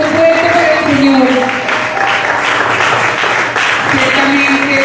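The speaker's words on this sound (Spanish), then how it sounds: "Recibe este aplauso de tu iglesia. Aplauso fuerte para el Señor." A church congregation at a Sunday service applauds steadily, a dense and loud wash of clapping that holds for the whole stretch, with a voice and a sustained tone faintly underneath.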